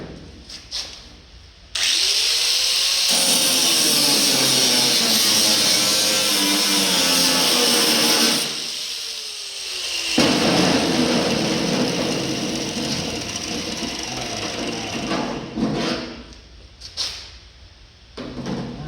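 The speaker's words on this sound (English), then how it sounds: "I can just pull it out and cut this edge right here though with the grinder" An angle grinder cuts the edge of a part on a 1948 Chevy truck in a shop, a loud sustained whine that starts abruptly, dips briefly mid-cut, then resumes and winds down into scattered clatter.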